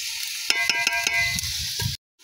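Two kilograms of chicken browning in a pot for biryani, a brief close sizzle with a few metallic stirring clanks before cutting to silence.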